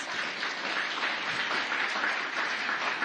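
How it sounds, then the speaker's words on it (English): Steady applause from a conference audience at COP 28 in Dubai, dense clapping sustained throughout at a moderate level. "Please give them a round of applause."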